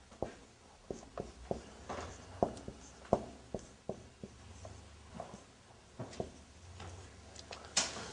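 Chalk or marker taps and scratches on a classroom board in scattered short strokes, fairly close and faint in a quiet room, with no one speaking.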